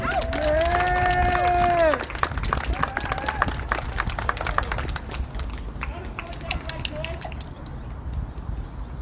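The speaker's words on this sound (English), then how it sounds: "Portia Campbell, let's give her a round of applause" A crowd at a Take Back The Night rally in Denver claps and cheers for a speaker. A sustained shout or whistle opens it, then scattered claps and voices follow and gradually thin out.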